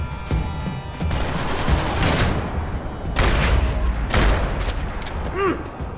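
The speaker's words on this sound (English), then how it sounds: "Gunfire over Hoboken." Bursts of automatic and single gunfire in the video game Max Payne 3, loud sharp cracks in rapid clusters over a dense rumble, with a brief voice near the end.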